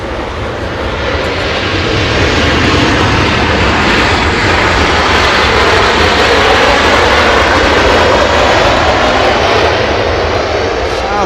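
An airliner arriving at Los Angeles International Airport roars loudly overhead, a broad, sustained engine rush that swells and holds at close range, with faint talk beneath it.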